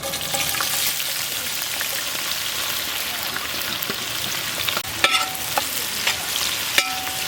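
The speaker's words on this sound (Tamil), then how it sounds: "அப்படியே வெங்காயம் நல்லா பொன்னிறமாக வதங்கினேன்" Large batch of onions frying in ghee for a village-style beef biryani, a dense continuous sizzle with occasional stirring scrapes and clinks, close and steady.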